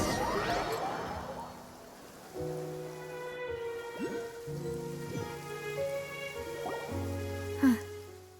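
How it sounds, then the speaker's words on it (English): Steady rain falling in the Genshin Impact video game, a continuous soft patter on surfaces running beneath sustained musical tones and occasional effects. "It's been raining non-stop for a few days now."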